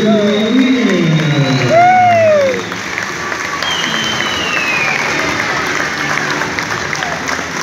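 A stadium crowd applauds and cheers in an ovation, dense clapping and shouts from a large audience, with a commentator's voice speaking loudly over the start.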